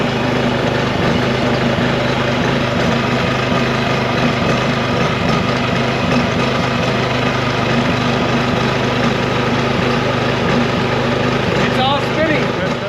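A homemade trommel machine runs with its engine droning loudly and steadily, close by, for the whole stretch with no letup.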